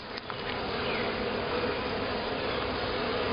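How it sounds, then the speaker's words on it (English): Honey bees from a Lithonia, Georgia swarm colony hum loudly and steadily on a hive frame, a dense close drone holding unbroken throughout. "Lots of nice bees."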